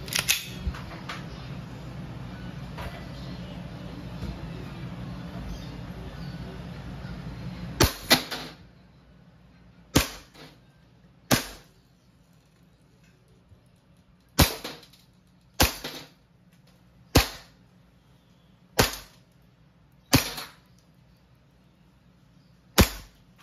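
A WE 2011 Hi-Capa 5.1 Type K gas blowback airsoft pistol fires about nine sharp, loud snapping shots at uneven intervals, after a stretch of hissing gas and rattle, with no speech.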